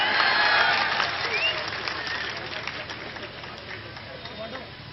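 A large crowd at a political speech claps loudly and densely, strongest at first and then thinning slightly while carrying on to the end.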